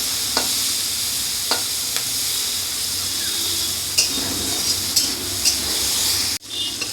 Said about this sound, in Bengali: বেশি ভাজবো না, চিংড়ি মাছ যেহেতু বেশি ভাজার দরকার নেই।